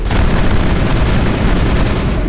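Gunfire in the Mass Effect video game crackles as a loud, dense, continuous barrage of rapid shots with booming impacts, no voices over it.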